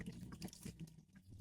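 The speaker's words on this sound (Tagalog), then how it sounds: "So yan, nalagyan natin ng tubig." Water pouring into a container while mixing a 2.5-liter batch of fabric conditioner, a short bubbly, gurgling splash with uneven pulses, close and faint.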